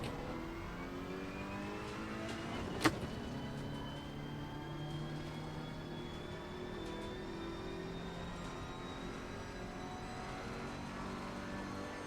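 A race car engine in a racing sim video game drones steadily at a constant pitch, with tonal harmonics holding and slowly shifting as the car drives. One brief sharp click cuts in early, and the level stays fairly quiet overall.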